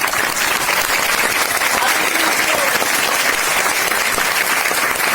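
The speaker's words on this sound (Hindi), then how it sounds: "जोरदार तालियां चाहूंगा" An audience at a network marketing workshop and training session claps loudly and steadily in a dense, continuous burst of applause that fills the room for several seconds.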